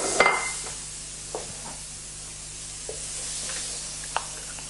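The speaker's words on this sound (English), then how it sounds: "You get a beautiful sizzle." Soybeans sizzling in a hot frying pan with a little pickled radish nearby, a soft steady hiss with a sharp crackle at the start and a few light pops and stirring clicks, close and fairly quiet.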